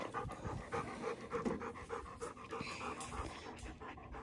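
A dog pants in quick, rhythmic breaths, close and soft, steady throughout with slight variation in pace.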